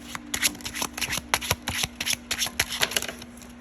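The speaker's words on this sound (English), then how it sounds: "But let's go ahead and pick a card for pile number 1." Tarot cards are shuffled by hand up close in a pick-a-card reading, making quick repeated riffling and slapping bursts in an even rhythm with no voice.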